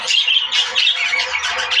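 A newly paired couple of budgerigars squawk and chatter at close range, a loud run of shrill, overlapping chirps and squawks with no pause between them.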